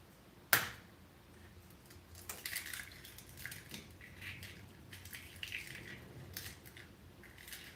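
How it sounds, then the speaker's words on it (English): Two medium eggs are cracked in a home kitchen, one sharp crack followed by quieter clicks, taps and soft shell rustling at close range, with no one speaking. "Gonna crack in 2 eggs."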